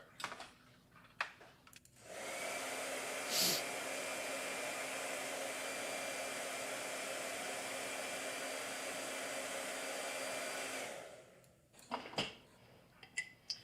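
A hair dryer whirs steadily for about nine seconds, a loud continuous blowing hum that starts and stops abruptly, with faint clicks and rustles on either side.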